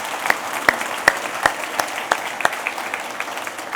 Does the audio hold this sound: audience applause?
yes